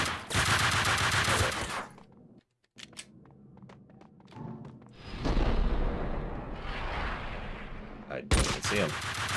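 Gunfire in the video game Max Payne 2: loud, dense bursts of automatic shots open the clip, followed by scattered single cracks and thuds, then more sustained firing and a final heavy burst.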